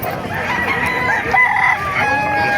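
A hatch gray gamecock rooster crows loudly and close by at the Bocaue market, one long strained call with busy crowd noise beneath it.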